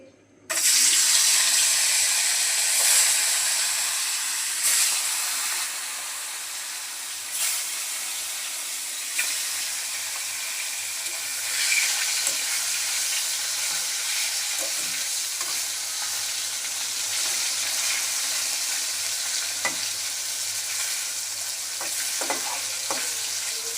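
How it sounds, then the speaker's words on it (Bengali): Koi fish coated in salt and turmeric frying in hot oil in a wok, giving a loud, continuous close sizzle with occasional crackles and spits over more than twenty seconds. "এখন লবণ হলুদ মাখানো মাছগুলো দিয়ে দেব"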